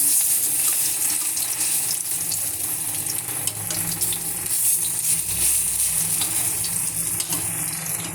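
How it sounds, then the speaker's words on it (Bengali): Gram flour fritters (bora) fry in a pan of hot oil, a continuous bright sizzle and crackle that runs steadily throughout with no talk. "এই যে বড়া ভেজে নামিয়েছি, আর এই ভাজা হচ্ছে।"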